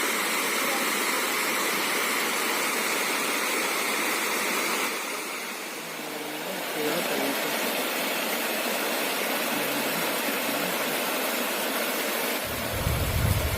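Water pours steadily down Akunoor waterfall, a dense continuous broadband rush close by that briefly dips and thins midway before swelling back to full roar.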